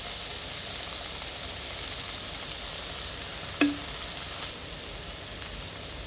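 Onion and capsicum fry in a pan for dragon chicken, giving a soft, even sizzle like light rain. A single sharp clink of a utensil against the pan stands out partway through, with no speech.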